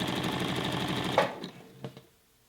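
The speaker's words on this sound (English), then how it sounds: "And notice that I'm stitching from the pretty side of the shirt." A sewing machine topstitches a T-shirt hem from the right side with about a 5/8-inch seam allowance, running in a steady close rapid whir, then stopping abruptly, followed by a few small handling clicks.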